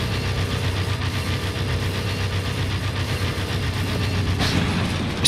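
A car with big exhausts in the Mad Max video game rumbles steadily like a moving train, a loud continuous low engine drone with a brief sharper burst near the end, no voices.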